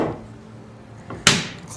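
A car door on a 1950 Mercury with a chopped roof shuts once with a sharp, close thump and a short ringing tail, after a quiet stretch of faint room noise.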